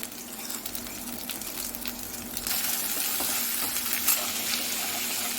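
Onion paste frying in a pan for a Telugu taro root and onion curry, a steady close sizzle that grows louder partway through, with no talk.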